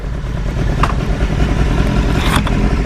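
A 2015 BMW S1000RR sport motorcycle engine drones loud and steady at close range, with a couple of brief clatters over the engine noise.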